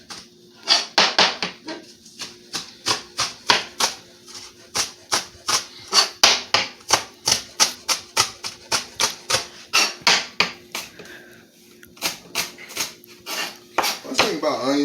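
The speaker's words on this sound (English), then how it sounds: "you want to cut up these chives real nice and thin" Knife blade striking a cutting board in quick, even strokes while chives are sliced thinly, a steady rhythmic run of close, crisp taps with brief pauses, no talk over it.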